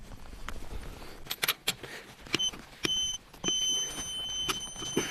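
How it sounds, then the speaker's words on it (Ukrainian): A GTM IS12/120BL 12V cordless impact driver beeps on overload: thin, steady electronic tones repeat in the second half after a few sharp clicks and knocks, heard close and fairly quiet, with no speech. "Оверлоуд, вона пищить постійно."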